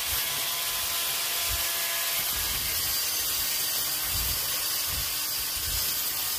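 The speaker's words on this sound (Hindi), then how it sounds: "ये जो ग्राइंडर है ये बहुत ही सावधानी से चलाया जाता है" A grinder runs steadily, giving a loud, continuous harsh hiss with low rumbling pulses underneath, and no talk over it.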